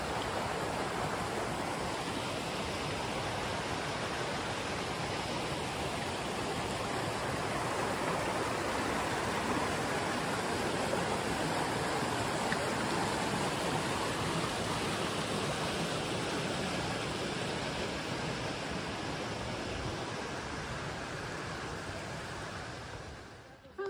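A creek rushes steadily beneath a footbridge near a backcountry campsite in the Great Smoky Mountains, a loud, constant broadband wash of flowing water that fills the whole stretch without pause.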